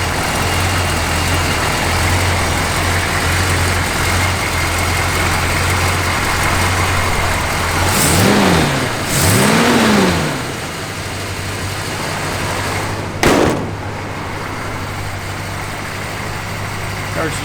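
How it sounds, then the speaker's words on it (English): A 1967 Dodge Coronet R/T's engine runs at a steady idle-like drone, then rises and falls briefly twice as it pulls away, with a voice talking over the motor. "Fires right up, turns key, goes down the road nice and straight."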